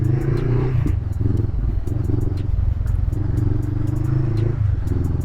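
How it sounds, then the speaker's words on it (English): A 2015 Honda CB500F with an aftermarket exhaust gives a steady low, throaty rumble while riding, peppered with light ticking and clattering, fairly loud and close with no talk. "You can hear the exhaust, the aftermarket exhaust."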